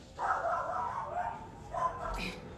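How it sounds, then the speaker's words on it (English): A dog barks and whines in a drawn-out, muffled vocalization, followed by a shorter yip, heard at moderate distance. "I don't know what she's barking about."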